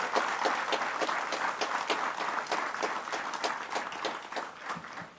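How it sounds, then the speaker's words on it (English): An audience at a Christmas lunch at Base Camp Seweyo, Guyana, applauds with a dense, steady patter of many hands clapping that holds throughout before easing slightly at the end. "let all of Guyana hear us applaud the Guyanese family"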